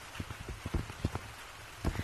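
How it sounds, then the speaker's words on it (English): Rain falling in the video game Gorilla Tag, a steady soft patter of drops with scattered sharper taps on surfaces, continuous and fairly close with no talking. "It's raining and I'm wet and I'm cold."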